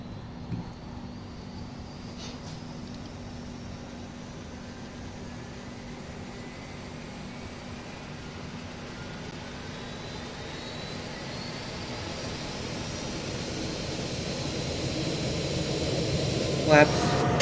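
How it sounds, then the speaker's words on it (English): Boeing 737 engines spooling up in the flight simulator game Project Flight, a low steady whine and rumble that slowly rises in pitch and grows louder over the stretch, with a thump near the end. "We're going to start engine 1, engine 2"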